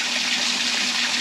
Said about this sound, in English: we got 700 gallons of water to fill up